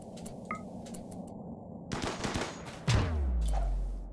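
Gunfire in the video game Rimworld, several rapid sharp shots in a cluster followed by a heavy low boom that fades into a rumble, loud and close with no talk.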